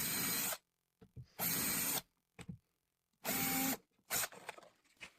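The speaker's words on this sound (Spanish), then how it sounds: "esta vez perforamos las 3 posiciones de los tornillos en la hoja grande de la bisagra" Three bursts of a power drill whining into the large leaf of a concealed cabinet hinge, drilling screw holes, each about half a second, separated by quiet gaps and small handling clicks.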